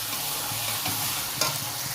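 A spoon stirs egg curry with fried eggs and potatoes in a frying pan, making soft repeated scraping strokes over a continuous sizzle. No voices.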